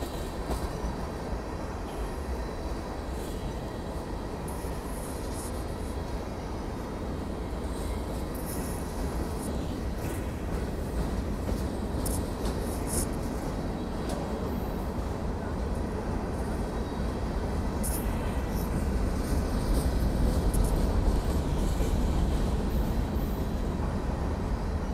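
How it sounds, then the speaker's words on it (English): A long Union Pacific freight train with auto racks rumbles past Jack London Square station in Oakland continuously, a dense grinding roar of wheels on rails with faint squeals, growing slightly louder toward the end. "This is the longest MOAOA train ever."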